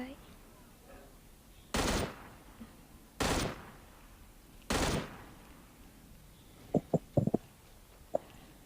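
Gunfire in the battle royale game PUBG: three loud, evenly spaced single shots, each a sharp blast with a short tail, then a scatter of quieter distant pops.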